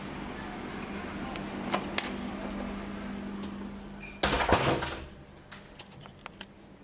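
A door in a resort beachfront room closes with a solid thump and rattle midway through, preceded by faint clicks and light handling noises in a quiet room.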